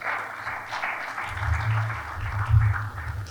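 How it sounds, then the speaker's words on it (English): Applause follows a speech at the SIDHAS close-out ceremony, a soft, even wash of clapping from the audience that swells slightly midway, with a low rumble underneath. "Another round of applause for Caroline"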